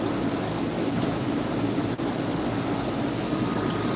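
Rain falls steadily outdoors in a garden, a constant dense hiss with faint drips and no voices.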